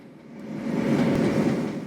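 A freight train with mid-train DPU locomotives passes the signal at Clarence Junction under power, its rumble swelling from moderate to loud and holding steady as the cars roll by, with no talk.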